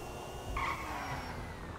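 Car cruising smoothly in GTA 5, a quiet, steady engine hum with a brief brighter swell partway through, no talking.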